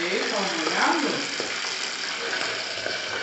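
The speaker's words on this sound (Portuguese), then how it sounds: "Tô fritando aqui agora, gente, os churros." Churros frying in hot oil at a home pajama party, a steady dense sizzle filling the clip, with a brief voice and faint stirring clinks over it.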